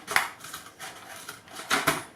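Scissors snipping through thick, heavy cardboard packaging, a series of close, crisp cutting and crunching bursts with a few sharper snips toward the end, no talking.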